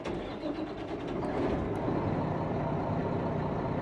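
An old Mack truck's diesel engine in American Truck Simulator cranks and catches, its low rumble swelling into a steady, loud idle with no talking.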